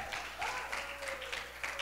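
A church congregation applauds in a short burst of clapping, moderately distant and fairly soft, with a faint steady tone underneath.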